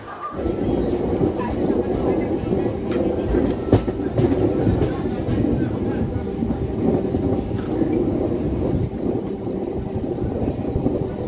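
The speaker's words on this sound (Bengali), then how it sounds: "এখানে মিনিট দুয়েক দাঁড়িয়ে ট্রেনটা এখান থেকে ছেড়ে দেবে পাঁশকুড়ার জন্য" A local train stands at a station, rumbling steadily with a low mechanical hum and faint rattling, voices murmuring in the background throughout.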